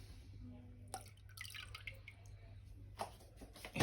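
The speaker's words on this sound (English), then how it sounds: "So get rid of the water out and see" Water drips and trickles as it drains from about 3 kg of river dirt and gravel, a few close, irregular drops and splashes over a steady low hum, with faint sounds of handling.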